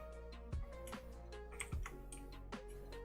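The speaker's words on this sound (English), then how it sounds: "That's the fun thing about my keyboard, the mechanical keyboard. You definitely hear it when I'm undoing everything" Mechanical computer keyboard keys clicking during a digital art session, a few sharp close taps spaced irregularly over a steady low background hum, with no talking.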